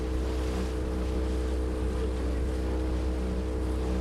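Speedboat engine droning steadily on a park lake, a continuous low motor hum with water and wind noise, close and unbroken throughout.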